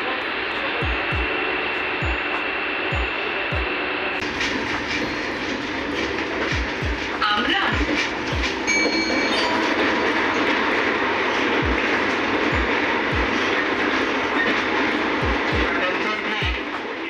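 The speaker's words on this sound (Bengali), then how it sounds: "এখন যে ভয়েসগুলো শুনছেন সেগুলো হচ্ছে ট্রেনের অরিজিনাল ভয়েস।" A Vande Bharat express runs between Howrah and New Jalpaiguri, giving a loud, continuous rolling roar inside the train, punctuated by regular low thumps of wheels crossing rail joints.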